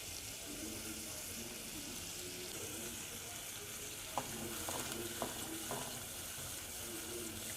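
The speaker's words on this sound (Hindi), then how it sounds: "अब ये प्याज अपना पानी खुश कर ले और गोल्डन हो जाए, तब तक हम इसको भूनेंगे" Chopped onions frying in a pan with ginger-garlic paste, a soft continuous sizzle with a few clinks of a spoon stirring near the end, fairly quiet and without talk.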